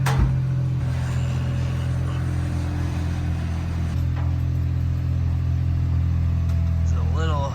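A very small Japanese-market Honda car idles with a steady, low, droning engine and exhaust note up close, while people talk over it throughout.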